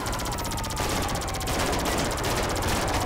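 Rapid, continuous automatic gunfire aimed at police in the video game GTA 5, a dense loud rattle of shots that lasts throughout with no pauses and no talking.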